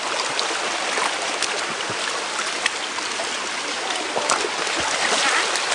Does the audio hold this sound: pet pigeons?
no